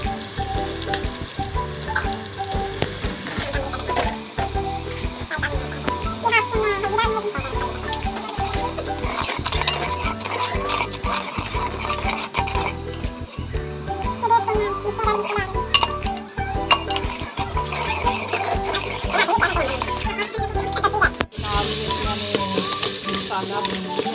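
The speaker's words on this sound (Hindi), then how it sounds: "मसाला भून लिया।" Masala and spices fry in a pan with salt added, a continuous sizzle broken by rhythmic scraping and stirring of a spoon against the pan, close and steady throughout.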